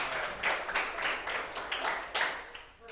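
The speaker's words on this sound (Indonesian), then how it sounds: "Siapa nih tepuk tangan?" Several quick bursts of hand clapping in a classroom setting, close and fairly loud, coming in a rhythmic series of roughly evenly spaced claps that fade toward the end.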